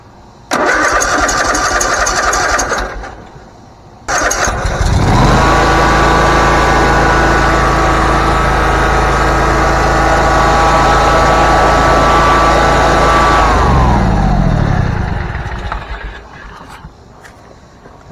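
A riding lawn mower engine that previously would only click cranks briefly, stops, then cranks again and catches, settling into a loud steady idle before shutting down and winding off.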